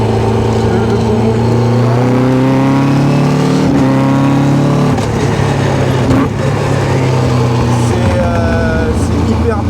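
Steady loud engine drone from inside a Caterham 485 S on a race circuit, pitch rising and dropping with gear shifts as it laps, with occasional voices under the noise.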